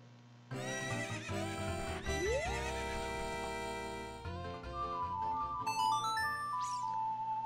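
A synthesized horse neigh and whinny from The Legend of Zelda: Ocarina of Time, rising in pitch over steady game music with chiming jingles, loud and alone with no talking.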